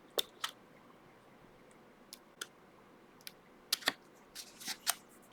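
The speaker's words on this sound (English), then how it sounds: "I'm going to turn to my smaller scissors here, and we are just going to cut out all these little smaller pieces right here" Small scissors snip out little pieces for sculpted hair, giving sparse, faint, sharp clicks, single and in quick pairs, in a quiet room with no talk.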